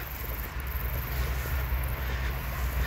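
A train runs with a steady, low rumble and broadband rolling noise heard from inside or close by. The sound is even and continuous, with no distinct clicks or voices.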